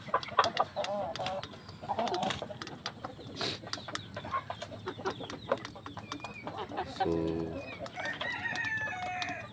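Chickens cluck and a rooster crows repeatedly among a flock of breeding village hens on a farm, with someone briefly speaking over the busy bird calls.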